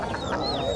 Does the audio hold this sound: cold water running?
no